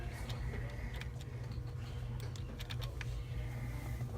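Keys clatter in steady, quick bursts on a computer keyboard's number pad, close by over a constant low hum, with no talking.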